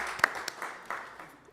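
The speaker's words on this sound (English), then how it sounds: "If we could just give them another round of applause." Applause from an audience at an evening awards ceremony for award winners during a disabilities advisory board meeting, a brief, fairly soft patter of clapping that fades out.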